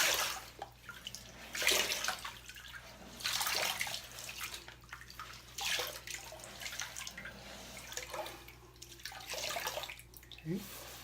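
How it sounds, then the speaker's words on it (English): Tap water running and splashing in a sink in uneven bursts while shaving soap lather is rinsed off a face, close by, with someone speaking briefly over it. "I'm going to rinse this off"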